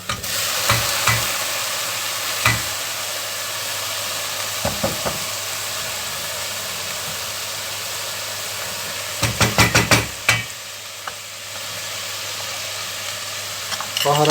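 Potatoes tip into a pan of sautéed onions, giving a steady soft sizzle of frying with a few clattering stirs and knocks of a utensil against the pan, close by and without talk.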